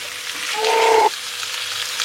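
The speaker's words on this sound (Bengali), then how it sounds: "এবার ভেজে রাখা আলুটাও অ্যাড করে দিচ্ছি" Fried potato pieces go into a sizzling spice masala of cooked-down spices with released oil, giving a brief burst of frying hiss that swells for about half a second and then settles back to a low background sizzle.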